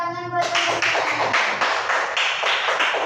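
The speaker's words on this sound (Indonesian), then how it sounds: "Kasih tepuk tangan buat teman-teman." Children clapping hands together in a classroom, a string of about eight loud, evenly spaced rhythmic claps after a brief adult voice at the start.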